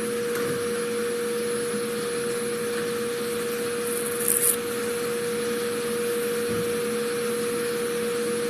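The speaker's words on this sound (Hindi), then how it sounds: "एक आदमी एक वैक्यूम कर रहा है" A vacuum cleaner runs steadily throughout a room being cleaned, a loud, constant motor whine and airy hum with faint rubbing and knocks of the nozzle on the floor.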